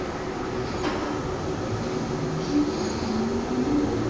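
A Calgary CTrain Red Line light rail train rumbles steadily along the tracks, with constant wheel and car noise and occasional faint squeals.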